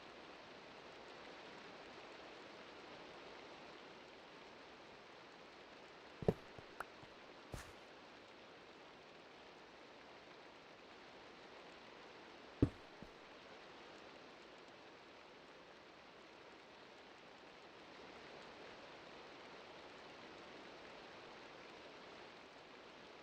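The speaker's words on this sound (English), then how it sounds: "It sounds like rain." Steady soft rain hisses in Minecraft Sky Factory 4, a faint, even wash of falling water, broken by a few sharp clicks and taps near the middle.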